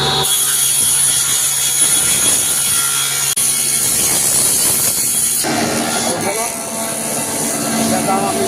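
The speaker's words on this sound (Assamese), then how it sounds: "এই মেচিনটো মানে ডাই মেচিন বুলি কোৱা হয়" A die machine cutting material on a factory floor makes a loud, continuous grinding rasp with rhythmic mechanical scraping, close by, with people talking over it.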